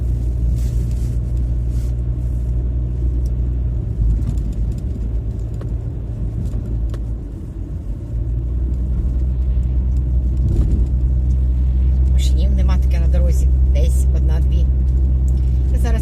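A car drives along a road with a steady low rumble of engine and tyres throughout, while someone talks over it near the microphone.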